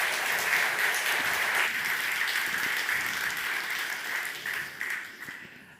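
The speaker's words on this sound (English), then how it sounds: "So please give a warm round of applause" A conference audience at a security talk on SIM hacking applauds speakers as they take the stage, sustained even clapping that gradually thins and fades toward the end.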